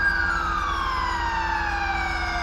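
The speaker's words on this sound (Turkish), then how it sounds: "Ambulans geliyor bana." An ambulance siren in the video game GTA 5, running a police mod, wails loudly and continuously, its pitch sliding steadily downward as it draws near.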